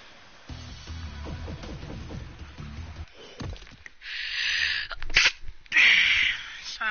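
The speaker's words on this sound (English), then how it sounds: "I had to sneeze, and I didn't want to go over the sound of the game" A single loud human sneeze bursts out alone after a stretch of game audio, with sharp noisy blasts that stand out above the quieter background.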